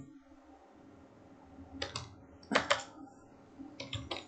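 Keyboard typing of Node.js code for Razorpay payment verification, a few bursts of quick clicks close up with short pauses between them, alone with no talking.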